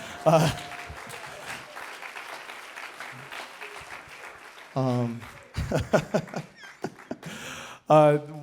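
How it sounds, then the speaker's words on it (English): Bursts of clapping from a crowd at a church service come and go, mixed with cheering and voices, loud and close. "Can we also give another round of applause to Chunyo Guk Daniel?"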